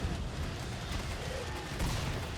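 Rapid, continuous gunfire from the zombie shooter Killing Floor 2 during a Halloween round, a dense barrage of shots running steadily through the whole moment, with a brief voice underneath.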